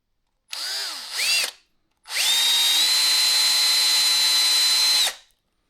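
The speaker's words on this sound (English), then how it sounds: "now try to drill a hole parallel to this." A power drill whirs in two bursts while boring a hole through a pipe: a short rising spin-up, then a longer steady high-pitched drone as it bores through, before winding down.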